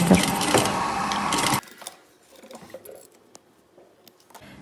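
A sewing machine runs a continuous stitching burst while finishing a seam on a welt pocket with a zipper, loud and steady for about a second and a half, then stops abruptly, leaving faint handling noises.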